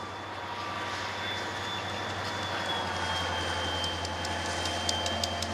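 A diesel locomotive train, an IORI SD40-2 pulling gondolas, rumbles steadily through a rail yard with a low droning engine and faint metallic clicks of the wheels toward the end.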